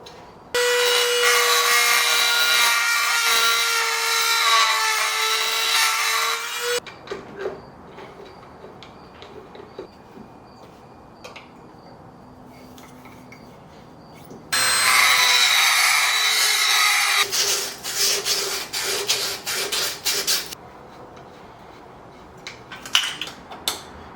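A car throttle body is port matched to the intake with a power grinding tool, giving two long, loud, steady high-pitched grinding bursts separated by quieter clinks and handling noises, with rapid stuttering grinding toward the end.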